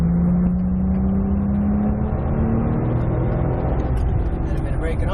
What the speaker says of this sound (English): Throttle all the way.